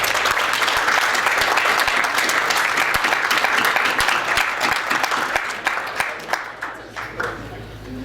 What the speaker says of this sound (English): So I'd like to acknowledge them with a round of applause.